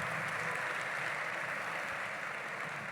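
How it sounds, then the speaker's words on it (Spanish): A church congregation applauds the Lord during a sermon, a dense, steady wash of clapping from a large crowd, continuous and even throughout, heard alone with no talk. "déle ese aplauso al Señor"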